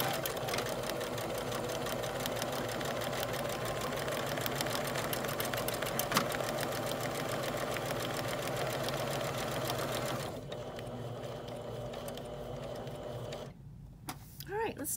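An Elna 3230 sewing machine stitches out a buttonhole, a steady close mechanical whir running for about ten seconds before easing to a quieter hum near the end.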